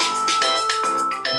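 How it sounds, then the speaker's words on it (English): A Motorola flip phone ringtone plays alone and loud, a bright electronic melody of short tones that shifts pitch several times in quick succession. "Is that a flip phone ringtone?"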